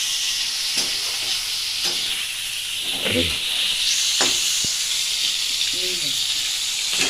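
Sugar fries in a pan until it turns red, a loud, continuous sizzle close by, marked by several spatula scrapes and a brief voice in the middle.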